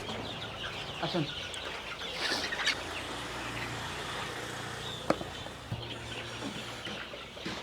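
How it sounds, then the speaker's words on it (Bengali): Chickens on an integrated poultry farm cluck and murmur softly under a constant hum of background noise, with a few sharp clicks and bangs scattered through and no speech in front. "ওই পাশটাতে দেখা যায় অন্য জাতের মুরগি"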